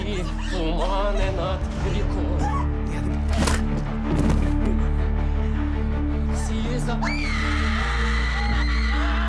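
Woman screaming in a film scene during a violent attack at a house, loud repeated shrieks and cries mixed with other voices and commotion, close and strained.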